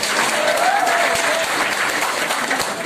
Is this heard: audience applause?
yes